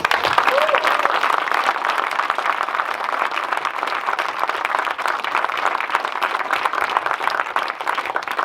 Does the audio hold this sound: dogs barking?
no